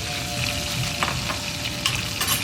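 Onion, green pepper and other Cajun trinity vegetables sizzle and fry in grass-fed butter in a skillet, a steady crackling hiss broken by a few louder spits and stirring scrapes.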